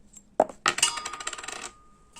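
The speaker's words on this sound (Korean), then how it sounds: "각각 동전을 던져서 어떤 게 나오는지 한번 볼까요?" A tossed coin strikes a hard surface with a bright clink, then rattles and spins in a quick ringing flutter before settling into silence, close and alone.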